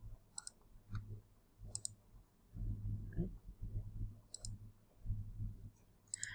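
Computer mouse clicking while setting up course folders, sharp isolated clicks in small pairs at irregular intervals, close and fairly quiet, with low muffled rumble and handling noise between them and no talking.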